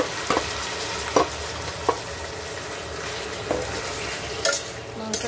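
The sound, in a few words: marinated meat added and frying in wok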